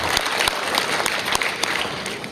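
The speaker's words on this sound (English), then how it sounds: "Ladies and gentlemen, can we give one more big round of applause" Audience applause fills the room at a live stage show, a dense, steady wash of many hands clapping at close range with sharp individual claps standing out, holding at full strength throughout.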